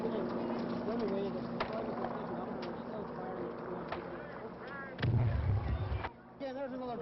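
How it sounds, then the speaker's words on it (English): A hand grenade goes off in a crowd at Milltown Cemetery: a loud, heavy, low rumbling blast lasting about a second breaks through continuous crowd noise and shouting voices. "Yeah, there's another grenade."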